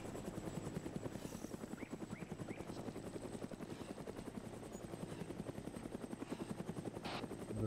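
A military helicopter in ARMA 3 flies overhead, its rotor giving a steady, rapid thudding chop that holds loud and even throughout, with a few faint distant shots.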